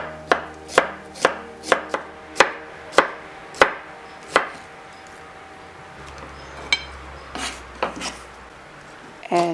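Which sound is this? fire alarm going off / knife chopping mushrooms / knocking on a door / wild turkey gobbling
knife chopping mushrooms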